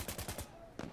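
A quick burst of four rapid gunshots in the video game Insurgency Sandstorm, then a short pause and one more shot, sharp and close, no voices.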